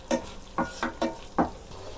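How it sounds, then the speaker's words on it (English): An egg pepper fry mixture with cream sizzles in a pan over a low flame while a spatula stirs it. About five distinct scraping strokes sound close over a soft steady sizzle, with no voices. "Let us fry it for 1 minute in a low flame."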